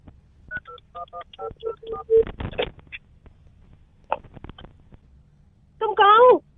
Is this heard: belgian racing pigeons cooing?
no